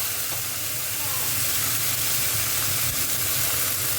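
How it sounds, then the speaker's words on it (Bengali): Dried shrimp frying in a pan for a Bengali mashed dish, giving a steady, loud, continuous sizzle and hiss with faint low rumbles underneath, unbroken throughout. "এবার দেখো, চিংড়ি মাছটা ভেজে নিই"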